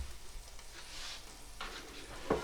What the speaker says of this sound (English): I'll just about get them in there, them steaks.